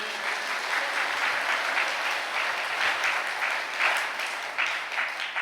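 Church congregation clapping their hands together, a steady dense patter of many palms held up close and evenly loud throughout, with no voices over it.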